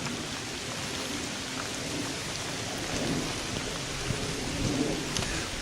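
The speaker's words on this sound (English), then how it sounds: "it's raining, so it's a good spot to maybe get out of the rain for a little while" Steady rain falls at the west portal of a 1916 railway tunnel on a mountain trail, a dense even hiss of drops with soft low rumbles, no voices.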